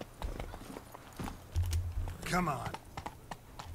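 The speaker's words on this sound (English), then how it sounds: "Oh, there's a horse, though." Horse in The Witcher III trotting with soft, rhythmic hoof clops at moderate distance, mixed with keyboard-like clicks and a short spoken remark.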